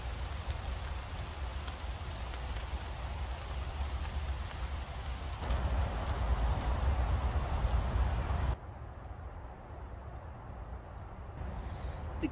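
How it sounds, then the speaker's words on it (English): Steady rain hissing down outdoors, a continuous broadband wash that swells louder midway, then drops to a softer patter. "Got that rain coming now."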